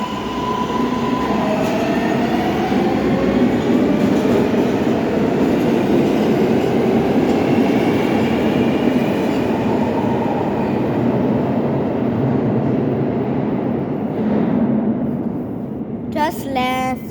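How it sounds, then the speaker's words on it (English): A New York subway train pulls out of Morgan Avenue station, a loud steady rumble and rattle of wheels on track that swells and slowly fades over about seventeen seconds, with faint squeals and a sharp clatter at the end. "Okay, the train's leaving Morgan Avenue."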